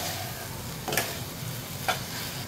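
Chilli potatoes with soy sauce sizzle in a pan as a steady hiss, broken twice by sharp spatula scrapes against the metal.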